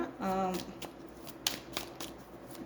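Playing cards are shuffled up close in quick, papery riffling bursts and taps. A short voice is heard at the start before the shuffling continues on its own.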